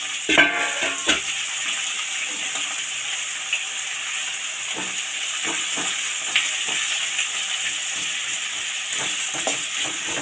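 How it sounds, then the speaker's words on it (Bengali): Onions fry in oil sweetened with a little sugar for a festive mutton dish, a constant close sizzle broken by spatula scrapes and light clinks against the pan, with no one talking. "এরপর আমি পেঁয়াজটা ভেজে নেব"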